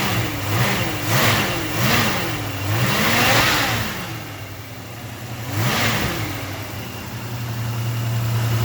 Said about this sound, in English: That's doing nothing to this carb so far. Seems like it's bogging down a little bit.